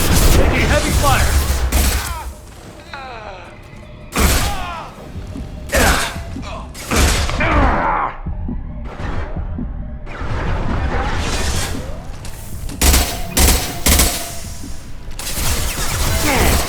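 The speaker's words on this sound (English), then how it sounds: "Taking heavy fire!" Heavy gunfire in the Mass Effect Legendary Edition video game, loud bursts of shots and impacts that recur through the clip, mixed with clanking mechanical sounds and voices talking over the action.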